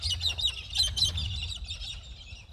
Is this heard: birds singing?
yes